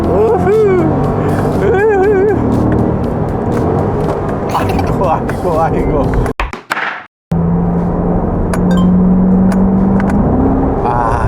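Chevrolet Corvette C8 sports car running on e-fuel, heard on a test drive: someone talks over road and engine noise, then after a brief cut a steady, loud engine drone rises in pitch as it revs.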